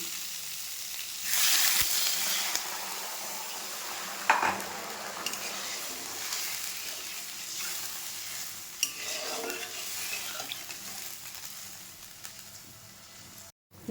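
Potatoes frying with dried chilli paste in a pan as water is poured in, giving a steady close sizzle and stirring with a sharp burst of hiss and a few scraping clinks, no voices.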